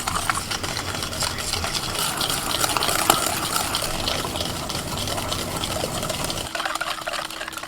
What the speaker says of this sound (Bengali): এবার ভালো করে এটাকে আমি ফেটিয়ে নেব